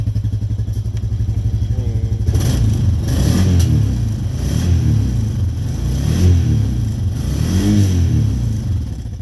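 A warmed-up Honda Rancher 420 ATV idles with a close, throbbing putter, then revs repeatedly in several rising, clattering bursts, all loud and near with no talk.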